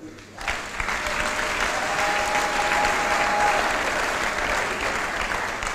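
A church congregation applauds during a sermon, a dense, sustained burst of clapping that rises quickly and holds steady for several seconds.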